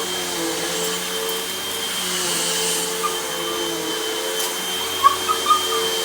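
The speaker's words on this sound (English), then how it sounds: "let's try vacuuming with the generator" A household vacuum cleaner running off a 2000-watt generator whirs in a steady, even drone close by, with a few faint clicks near the end.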